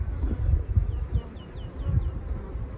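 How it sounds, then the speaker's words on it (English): Honey bees buzz near and loud around the entrance of a seven-frame Flow Hive 2, with several individual bees droning past in quick succession over a low rumbling hum. "there's good activity at the front, plenty of bees going in and out"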